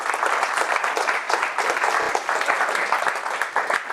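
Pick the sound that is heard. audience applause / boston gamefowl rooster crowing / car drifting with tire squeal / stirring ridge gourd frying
audience applause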